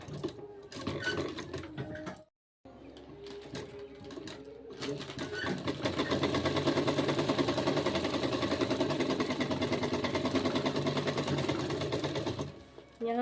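Electric sewing machine stitching a suit, a steady rapid mechanical whirr running nearly the whole time with a short pause early on, fairly close and continuous.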